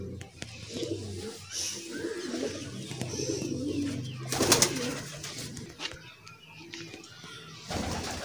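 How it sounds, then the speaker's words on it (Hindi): Sialkoti pigeons coo in low, rolling murmurs close by, repeated throughout with a few sharper bursts and rustles in between. "ऐ वेखो जी ए भी सियालकोटी कबूतर है"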